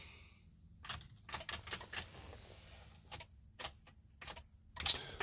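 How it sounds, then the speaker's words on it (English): Faint irregular clicking inside a Ford Super Duty F250/F350 diesel truck that dies and won't crank or start, a dozen or so sharp ticks in uneven bursts over a quiet hum, heard alone. "Can hear clicking going on over there."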